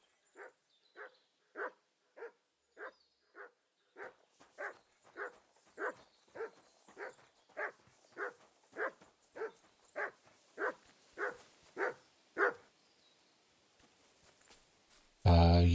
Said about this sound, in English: My dog sounds like it's going psycho.